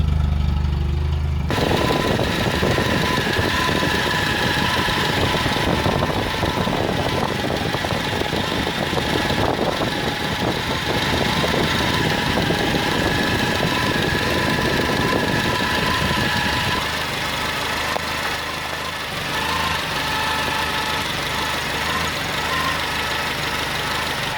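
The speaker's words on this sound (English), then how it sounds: "A little bit of a tappet noise there." A Mitsubishi GH Sigma car engine idles steadily and fairly loud, with a faint rapid tappet ticking running through the rumble; the tone drops slightly near the end.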